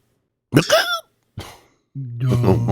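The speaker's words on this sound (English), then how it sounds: "I got the hiccups." A character's hiccup sounds break off speech: two short, sharp bursts separated by a pause, followed by a voiced, sustained stretch, all fairly close and loud.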